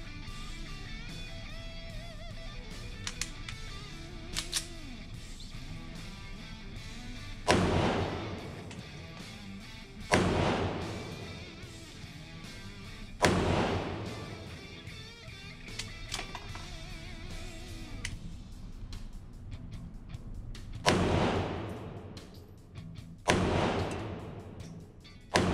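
Ruger LCP Series 1 pistol fired at a paper target about three yards away, six sharp, loud shots in an uneven sequence with pauses between them and a hiccup from a jam, each crack followed by a short decay.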